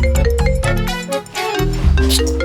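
A phone rings with a loud, bright electronic tune of quick repeated tones and chimes, close and continuous, with one short break partway through.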